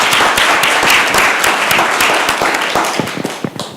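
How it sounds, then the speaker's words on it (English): Audience applause at a city council meeting in Columbus, Georgia, a dense, loud round of clapping that holds steady and then gradually thins out toward the end. "Let's give her another round of applause"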